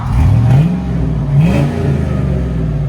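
A Hummer H2 with a 6.2L V8 and Flowmaster 40 Series exhaust revs loudly and close up, two rising throttle blips over a steady deep idle rumble, with no talking.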